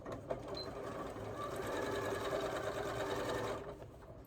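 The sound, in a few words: domestic sewing machine stitching a fabric panettone holder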